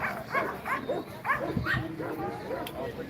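Dogs, including German Shepherds, at a dog competition in Bursa, giving a series of short barks and yelps close by, mixed with crowd noise and voices in the background.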